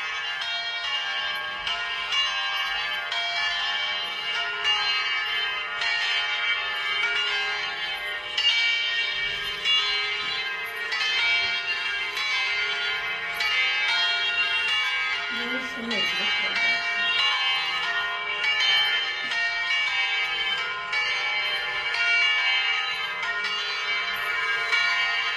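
Church bells ring continuously, loud and steady, with a voice faintly heard beneath the ringing.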